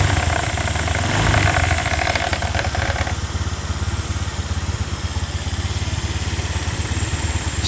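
A motorcycle engine idles steadily and up close, gets a short throttle blip early on, then settles back into a rough, pulsing idle. The radiator has just been refilled, and the bodywork and air filter box are still off.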